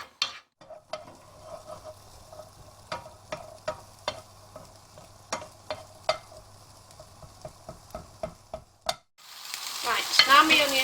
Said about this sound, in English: And I'm going to fry these until they're brown.